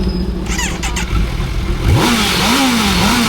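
Superbike engine revving outside on a ride through Maharashtra, a loud close blip rising sharply then wavering through several throttle swells over steady idle rumble.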